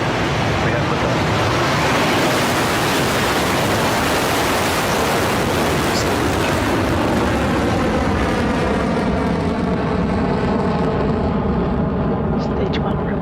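A Rocket Lab rocket lifting off, its engine roar a dense, continuous broadband rumble that stays loud and saturated throughout, with the tone slowly shifting as the vehicle climbs away.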